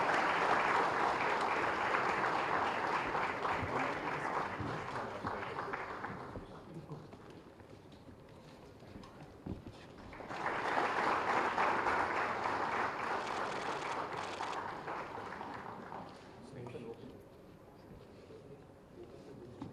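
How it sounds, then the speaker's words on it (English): Applause from a conference audience at a valedictory ceremony in Hyderabad, a dense roar of clapping that fades out, falls quiet, then swells again in a second loud burst before tapering. "Can we have a big round of applause once again?"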